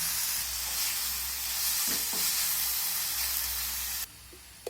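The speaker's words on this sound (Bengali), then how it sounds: "এখন আমি এই ম্যারিনেট করে রাখা চিকেনটা তেলে দিয়ে ভেজে নেব" Marinated chicken pieces fry in hot oil in a pan with a steady, close sizzling hiss and a few faint stirring clicks, then the sizzle drops sharply near the end.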